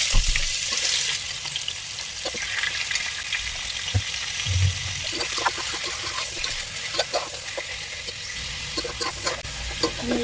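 Chicken pieces fry with onions in oil in a pan, giving a loud, steady sizzle with scraping and stirring noises and occasional clinks, close up and continuous throughout.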